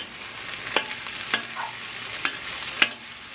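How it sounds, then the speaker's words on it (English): Snow peas stir-fried with ginger in oil in a wok make a soft steady sizzle, with four crisp metallic taps from the spatula spaced apart. "Get that oil and the wok getting all over everything. Okay, stir fry that around."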